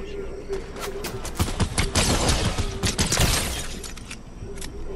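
Rapid bursts of gunfire and sharp impacts from a squad-based shooter video game match, a dense volley crowding the middle of the clip over steady game background.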